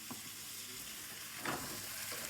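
Oil sizzles and crackles steadily as spices and capsicum are tempered in a hot pan, with a brief louder burst of frying partway through.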